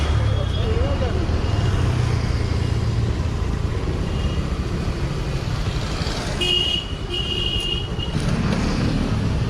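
Scooter ridden slowly through a crowded market, its engine hum and throttle blips blending with steady traffic noise and a few horn toots, close and continuous while someone talks over it.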